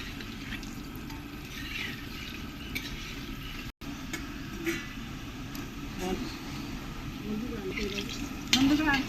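Potatoes fry in a pan in a village kitchen, a steady close sizzle with occasional stirring scrapes and a brief gap, a voice talking faintly over the cooking.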